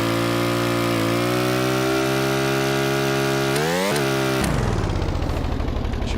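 In Stormworks, a simple universal modular engine with fuel injection hums steadily, then shifts pitch as the load changes, dipping and stuttering before settling into a lower, pulsing rumble; loud, near and with no voices.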